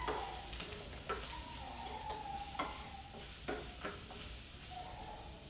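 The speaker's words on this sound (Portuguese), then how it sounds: "de olho no alho poró, senão ele passa, vai refogando" Leek sautéing in olive oil gives a soft, steady sizzle, punctuated by several light scrapes and stirs of a utensil in the pan, fairly faint and close.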